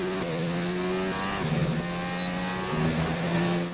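A race car sliding into understeer on its tyres, with a loud, steady engine note that dips and rises and a faint scrubbing tyre hiss underneath.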